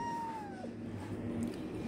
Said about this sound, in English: This cat is asking food.